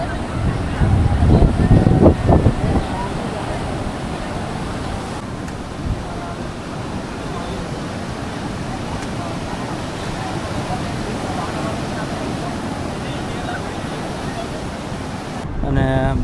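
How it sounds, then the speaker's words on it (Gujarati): Strong ocean waves surge and crash on a Goa beach in a continuous loud wash of surf, with heavier bursts at the start and faint voices mixed into the roar. "જોરદાર ઉછળીને મોજા આવે છે."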